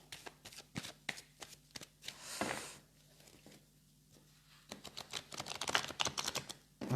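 Oracle cards are shuffled by hand in a quiet room, with bursts of crisp riffling and patting, a brief rushing slide near the middle, then denser rapid flicking toward the end.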